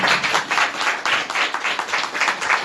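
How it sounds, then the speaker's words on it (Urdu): A church congregation claps together in steady rhythmic bursts, loud and full with many hands, continuing throughout without talk. "تالیاں بجاؤ تو تمہیں ہوش نہیں آئے."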